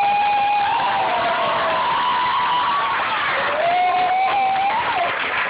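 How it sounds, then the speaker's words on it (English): Audience applause and cheering at a live concert, continuous crowd clapping with whoops and shouts, and a sustained musical tone rising and falling over it. "I've got to get the applause, you see."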